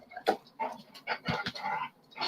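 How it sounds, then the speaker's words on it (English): A dog pants and whimpers nearby in short, uneven bursts of breathy huffs and small whines, separated by brief quiet gaps, with no voices. "My dog's being a little jerk right now."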